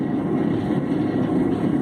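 An electric motor turning at about 1,725 RPM in a scrap wire melting setup gives a steady, low droning hum, loud and unchanging throughout with no speech.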